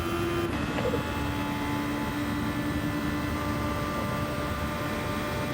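A Formula 1 car running with its engine and transmission straining at fifth gear, heard as a steady, loud mechanical whine and drone with a brief high tone near the start, continuous and close, with no talking.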